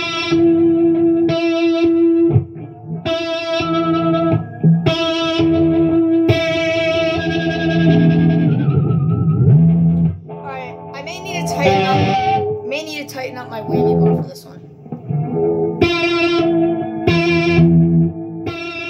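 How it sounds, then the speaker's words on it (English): Electric guitar whammy bar horse whinny, with effects-laden distorted notes bending and wavering in repeated attempts, loud and close, with short gaps between phrases. "The horse sounds something like this."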